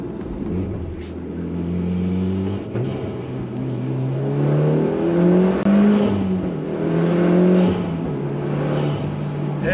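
A Mitsubishi Evo X drives and slides on snow, its engine revving up and down in loud, rising and falling surges with tire and road noise close by.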